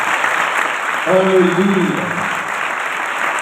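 A church congregation claps and applauds in a dense, continuous wash of clapping, with a voice calling out over it briefly in the middle.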